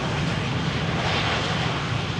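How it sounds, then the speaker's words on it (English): A Croatia Airlines airliner arriving at Schiphol airport after a flight from Zagreb gives a steady, broad engine roar, fairly loud and unbroken, with no voices. "Croatia Airlines in the meantime having arrived from Zagreb."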